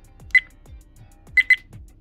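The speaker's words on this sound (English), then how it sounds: "That beep means that it's not recording." A Viofo dash cam gives short electronic beeps as recording stops: one beep, then a quick double beep, close and clear over faint low background rumble.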